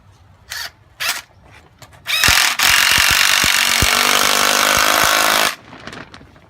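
A power drill drives screws into pre-drilled wood: two short trigger bursts, then a long, loud, steady whine lasting about three seconds with rhythmic clicking of the screw biting in, ending abruptly into quiet.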